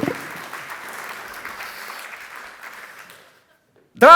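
Audience applause at a corporate anniversary celebration for BSC Kranj, honoring a singer, a steady crowd clapping that fades out, followed by a brief loud burst at the end.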